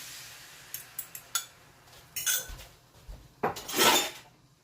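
Dishes, pots and pans clattering in a home kitchen, with a run of sharp clinks and knocks followed by longer scraping, rattling bursts of cookware and cutlery, close and fairly loud.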